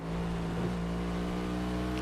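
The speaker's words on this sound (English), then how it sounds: "An American V8 sounds tough." A V8 car engine in the racing video game Test Drive Unlimited 2 drones at a steady pitch, a continuous close rumble that holds level throughout, with no distinct rev rises and no talking.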